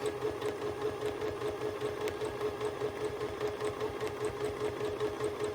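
Sewing machine stitching a ruler-guided curve on a quilt, a steady fast mechanical chatter running unbroken and fairly quiet throughout, with no voices.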